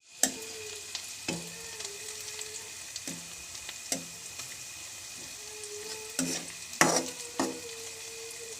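Onion and garlic fry in a pan with a steady soft sizzle, broken by repeated clinks and scrapes of a spatula stirring against the pan at irregular intervals, close by with no voices.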